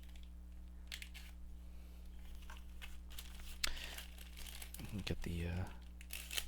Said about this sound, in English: Let me cut everything up here.